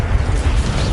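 A brief, heavy rumbling crash from a Descendo slamming spell in Hogwarts Legacy, dense low-end impact with grinding, creaking texture, loud and close, lasting about a second.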